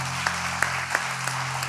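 A church congregation applauds for Isaac, moderate clapping with a few sharper claps standing out over a steady low hum, no voices on top.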